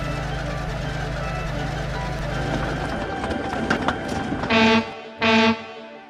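A train rumbles and roars past at a steady pace, then two loud blasts of its horn sound before it fades.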